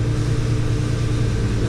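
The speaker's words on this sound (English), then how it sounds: "we're going to kick on the PTO to run the auger" A farm tractor runs the PTO to drive a grain cart auger during a corn harvest, giving a steady, loud, low engine rumble that holds even throughout with no voices.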